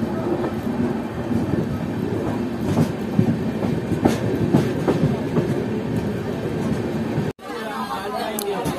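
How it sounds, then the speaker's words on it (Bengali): The 12858 Tamralipta Express pulls out of Digha railway station bound for Howrah, heard from inside a coach as a steady rumble with rhythmic clickety-clack of wheels over rail joints. Passengers chatter beneath it before the sound cuts abruptly near the end. "আমাদের এখন ছেড়ে দিল দীঘা রেলওয়ে স্টেশন"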